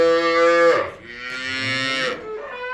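A Simmental or Swiss breed bull moos loudly and close by, a long harmonic call that dips briefly and then swells into a second drawn-out bellow, heard alone without talk.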